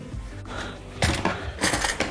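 Scissors snipping soaked dried tomatoes into strips, a few crisp close cuts in quick succession over faint kitchen background.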